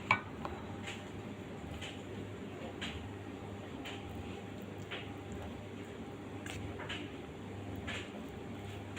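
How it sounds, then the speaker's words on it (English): Fried rice being stirred in a pan, soft repeated scrapes and light taps of a utensil against the metal at an uneven rhythm, faint and close over a low background hum. "Then we need to stir, mix well."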